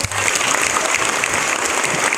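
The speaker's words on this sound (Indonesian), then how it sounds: "Tepuk tangan untuk beliau." Steady applause fills a crowd at a NasDem party Halal bihalal gathering in Blitar, continuous and fairly loud clapping from many hands throughout.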